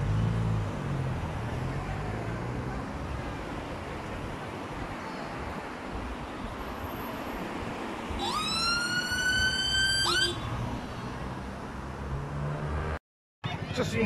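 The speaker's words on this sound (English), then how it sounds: "Unfortunately, there's an ambulance here trying to get through just here, off the roundabout here" An ambulance siren wails through road traffic near a roundabout during a cycling stage race, rising in a couple of sweeping cycles midway over a constant background rumble of traffic.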